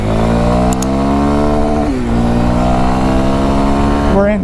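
A 2023 Kawasaki KLX supermoto motorcycle engine hums loud and steady while riding in third gear near 50 mph, its pitch sliding and dipping briefly midway before climbing again, with wind rush throughout.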